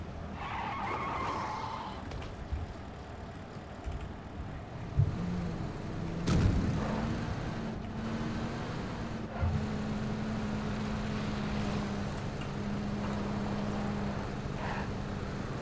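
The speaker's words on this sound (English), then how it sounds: "Yeah, pickup truck. Yeah, let's take that." Pickup truck driving in PUBG, a game engine hum starting quietly, then a bump and a steadier motor tone settling in, with rattles and skidding textures over a constant mid-level rumble.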